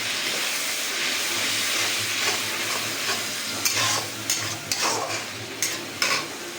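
Ginger and radhuni spice fry in hot oil for shukto, a Bengali mixed-vegetable dish: a steady hissing sizzle, with sharper scrapes and bursts of spatter in the second half as the pan is stirred.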